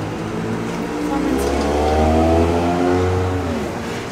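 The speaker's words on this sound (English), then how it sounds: "There's a car coming." A car approaches and drives past, its engine and tyre noise swelling to a loud, close peak before fading, while people talk over it.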